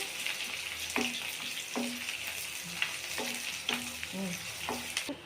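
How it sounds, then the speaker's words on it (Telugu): Sliced onions fry in hot oil for chicken liver curry, a continuous bright sizzle with a spatula scraping the pan in regular strokes about every second, close and alone. "ఉల్లిగడ్డలు ఎర్రగంట వరకు వేసుకుందామండి"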